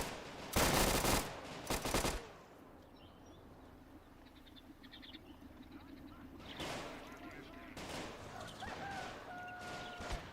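Gunfire in a strategy video game skirmish, including an anti-tank rifle: two loud sharp bursts open, then a quieter spell of distant rattling shots, with more firing and a rising battle din near the end.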